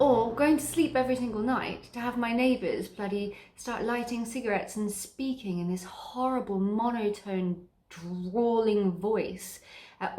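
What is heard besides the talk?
None of the usual background noises is heard.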